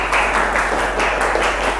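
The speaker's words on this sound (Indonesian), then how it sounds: "Beri tepuk tangan terlebih dahulu" A classroom group applauds steadily, a dense patter of many hands clapping at once with no voices over it.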